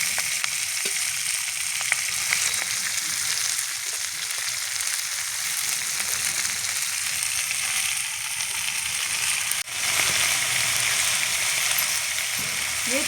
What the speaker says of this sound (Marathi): अशी कलसू द्यायची तेल टाकून थोड्या 5-10 मिनटं